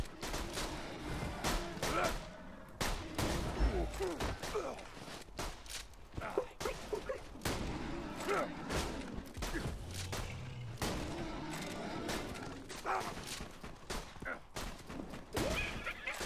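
Rapid gunfire in the Borderlands 2 video game, sharp shots cracking in dense irregular bursts throughout, with a player talking over the shooting.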